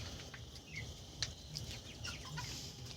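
Chickens cluck and squawk on a poultry farm, a busy flock with scattered sharp calls and rustling over a low steady background, moderately near.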